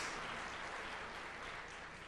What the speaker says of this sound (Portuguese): Uma salva de palmas bem forte para Camila.